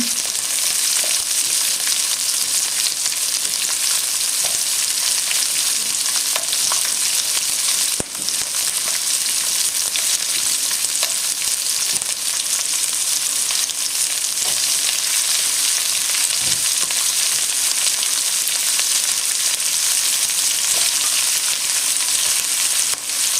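Chili and mixed vegetables are stir-fried in a hot pan for sweet and sour tuna. An intense, continuous sizzle stays loud and close, with only a few faint knocks from stirring and no voices.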